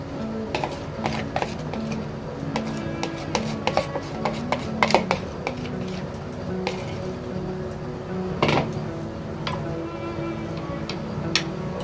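A spoon stirs chhena into boiled milk in a pan, making steady, rhythmic taps and scrapes against the metal, with occasional sharper knocks, close and fairly loud, with no speech.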